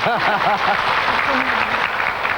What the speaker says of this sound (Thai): ขอเสียงปรบมือหน่อยขอเสียงปรบมือ